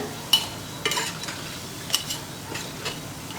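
Onion bonda being lifted out of hot frying oil, with a soft steady sizzle underneath and a few sharp scraping clinks of a ladle against the pan, close and fairly quiet.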